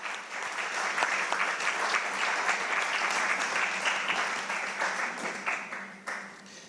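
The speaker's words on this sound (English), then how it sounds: "A round of applause for Dr." A conference audience applauds Dr. Sharon with steady, full clapping from many hands that holds for several seconds, then tapers into a few scattered claps at the end.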